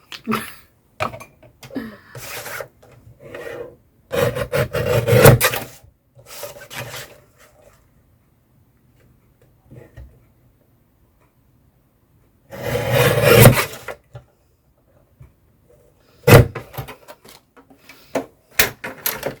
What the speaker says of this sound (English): I'm going to use the paper trimmer because I don't trust myself.